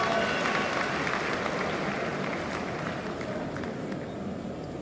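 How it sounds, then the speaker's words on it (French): A large crowd at a political party candidates' investiture ceremony cheers and applauds steadily, a dense wash of clapping and shouts that stays loud and fades slightly toward the end. "On peut acclamer encore très très fort nos candidats."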